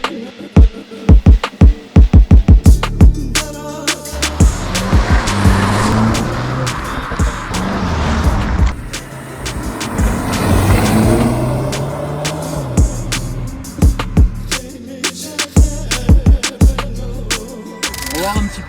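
An Audi S3 sedan engine is revved two or three times with sharp pops and crackles, then accelerates in a long roaring pull that rises and falls, loud and close, followed by more crackling.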